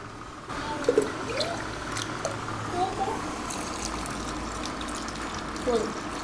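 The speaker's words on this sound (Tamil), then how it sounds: "தண்ணி ஊற்றிடலாங்க" Water pours and gushes into a pan of mango pulp being cooked for homemade mango juice, a steady splashing stream with a few louder bubbling bursts.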